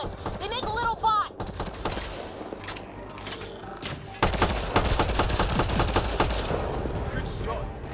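Rapid bursts of gunfire from a firefight in Mass Effect Andromeda, with dense overlapping shots growing louder and heavier in the second half, mixed with voices calling out.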